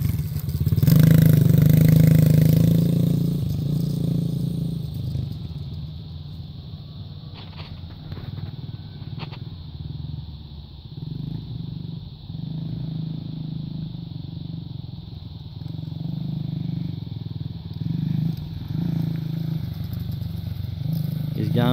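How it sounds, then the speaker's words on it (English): A motorcycle engine on a short lap, loud and droning as it pulls through the gears, with rising and falling engine tone, some clatter, and people talking over it. "You're in first gear, pop it up two more gears."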